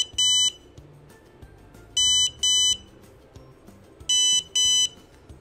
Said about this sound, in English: when the ultrasonic detect object within 10 cm, you will hear an alarm sound.